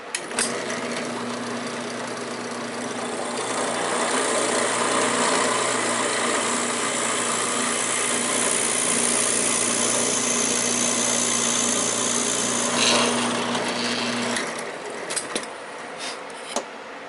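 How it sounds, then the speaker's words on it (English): A steady drill whine from a Forstner bit boring a hole in wood runs for about fourteen seconds, then cuts off, leaving quieter handling noises. "I'm going to go ahead and drill that hole on down."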